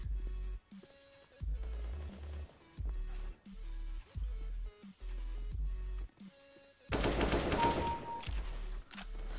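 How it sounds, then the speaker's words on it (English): An AK rifle fired in CS:GO, short bursts of rapid automatic gunfire separated by brief pauses, with a louder, denser burst near the end. "Now we go with AK."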